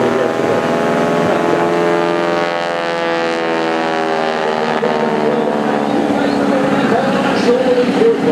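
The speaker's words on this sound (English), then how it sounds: "So many good planes coming around this afternoon." Propeller aircraft at a seaside airshow over the boardwalk, including a T-6 Texan, drone overhead in a sustained, loud, wind-buffeted roar that swells and recedes slightly without pause.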